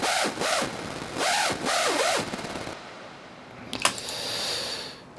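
Synthesizer screeches made by bashing the keyboard and bending the pitch, bounced to audio: harsh noisy bursts with swooping arch-shaped pitch bends in rhythmic pulses, followed by quieter hiss and a sharp crackling hit.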